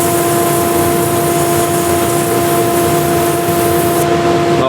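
A power sander runs continuously with sandpaper against a surface, giving a loud, steady motor whine and broadband grinding hiss throughout, alone with no voices.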